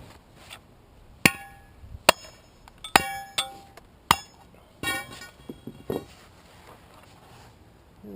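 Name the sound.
pry bar tapping concrete core out of curb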